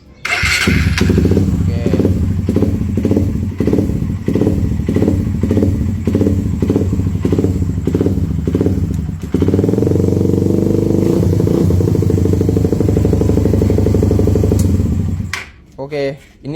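A Suzuki FU motorcycle converted from carburetor to fuel injection cranks with a rapid rhythmic starter clatter, then fires and idles loudly and steadily up close before shutting off, with a brief spoken word at the start.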